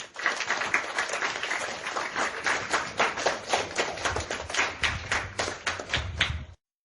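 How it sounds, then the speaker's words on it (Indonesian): An audience of young people at a public speaking session breaks into lively clapping, loud and close, with a strong rhythmic pulse toward the end before it stops abruptly. "Tepuk tangan sekali lagi"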